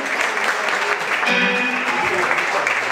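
Loud audience applause welcoming a band's new drummer at his first outing with the group, a close, steady burst of clapping with some faint tonal sound mixed in.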